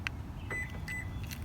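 A Toyota Sequoia TRD Sport key fob locking the vehicle: a short high chirp, then a couple of brief electronic beeps and a soft mechanical lock clunk, heard close outdoors over low background rumble.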